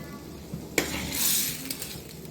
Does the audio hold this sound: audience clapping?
no